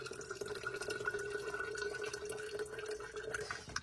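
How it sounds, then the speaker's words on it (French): Filtered water pours steadily into a glass bottle inside a van, a continuous trickling fill with a rising tone, fairly quiet, with no voices. "je vais remplir avec mon eau que je filtre"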